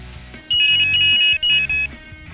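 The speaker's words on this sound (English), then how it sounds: "this is a slick, sleek, retro alarm." A Carp Kinetics Black Zero Range carp fishing bite alarm sounds loud and close, a sustained high electronic tone broken into three bursts, the first long and the last two short, over a faint low hum.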